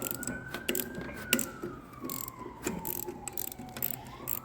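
A ratchet clicks in short irregular bursts while loosening the fork bolts on a 2005 Suzuki GSX-R 600 during a fork seal replacement, with a siren rising and falling in the background.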